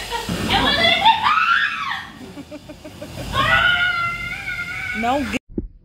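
A young girl screams and squeals loudly at night indoors, with long drawn-out high-pitched wails broken by a brief pause.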